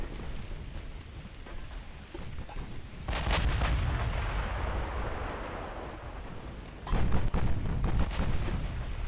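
Heavy naval gunfire in Ultimate Admiral Dreadnoughts, including 8-inch secondary guns, booms out in two loud salvos, one near the three-second mark and another near the seven-second mark, each with a long rumbling tail over low sea and ambient noise.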